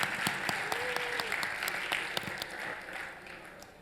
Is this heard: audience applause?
yes